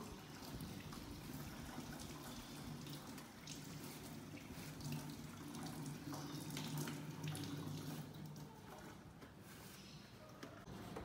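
Running tap water streams steadily into a sink as something is rinsed, a continuous, fairly soft splashing flow with no voices.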